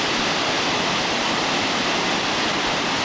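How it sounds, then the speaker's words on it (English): Small waterfall where a drainage ditch runs over near an Olympic ski jump, a steady broadband rush of falling water, close and continuous with no voices. "Waterfall, it's just a little ditch, drainage ditch running over."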